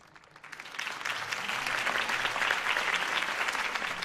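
A crowd in the video game Batman: The Telltale Series breaks into sustained applause that swells quickly after a quiet start and keeps going steadily, dense clapping from many hands.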